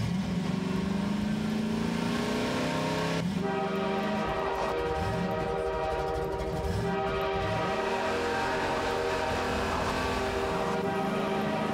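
A train in the Half-Life 2 video game rolls along rails with a steady, continuous rumble and rattling clatter, joined by sustained horn-like tones, loud and close throughout with no talk over it.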